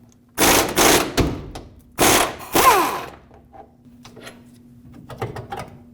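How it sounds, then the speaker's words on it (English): Ratchet with a 24mm socket turning a lower control arm bolt on a 2009-2010 Dodge Ram 1500, loud close bursts of rapid clicking in several runs, then fainter scattered clicks and taps. "We'll do the same on the other side, 24mm socket and wrench"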